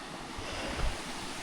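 Clean, cold stream water rushes down from Horton Plains in Sri Lanka's hill country, making a steady, even wash of flowing water with a slight low rumble and a touch of wind. No voices are heard.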